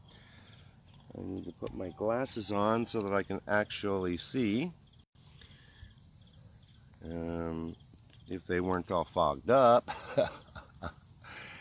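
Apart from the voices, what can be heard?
crickets chirping outdoors at sunrise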